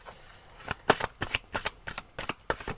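Cards drawn one by one from a deck during a tarot-style card reading, a quick series of close, crisp snaps and riffles with no voices.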